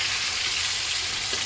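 Chicken sizzles in oil in a pan, a brief, steady and fairly loud hiss of frying heard close by with no voices.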